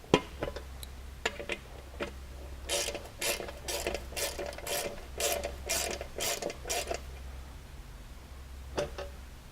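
A hand ratchet snugs down bolts on a Honda Talon A-arm skid plate, with scattered single clicks, then a run of quick, even ratcheting bursts and a final click, close and clear.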